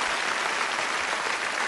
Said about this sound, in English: I wish you a nice round of applause.